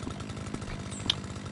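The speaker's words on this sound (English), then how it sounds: "I get on my lawnmower real quick" A ride-on lawnmower engine drones steadily in the video game Lawn Mowing Simulator, a continuous rough buzzing hum with a brief higher blip, fairly quiet and alone.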